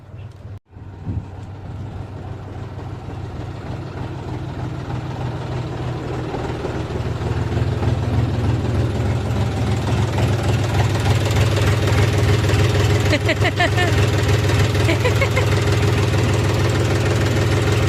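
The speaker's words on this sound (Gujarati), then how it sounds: "ને જો આની જટણ મેં ટ્રેક્ટર ઉપાડી લીધું" A tractor engine runs close by in a steady low idling throb that grows slightly louder and rougher after starting, continuing throughout with no talk.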